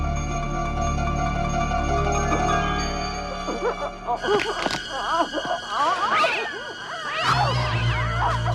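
A cat meows and caterwauls in a long run of loud, drawn-out, wavering cries over a tense musical background from a 1990 horror film.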